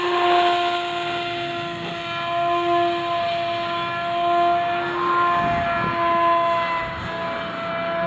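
An RC boat with a Bix2 motor runs a wide-open pass, a steady high whine holding pitch and then shifting as the boat passes, loud and continuous with no talk.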